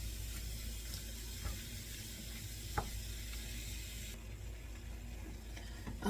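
Food sizzles and crackles steadily in a pan during home meal prep, a soft continuous hiss with a few sharper clicks and scrapes as it is moved around, no voices.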